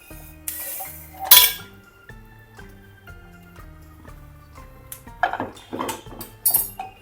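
Dishes and utensils clink and scrape at close range as roasted flaxseed mixture is shifted onto a plate in a kitchen, with scattered sharp metallic taps and a few louder clatters spread irregularly across the stretch.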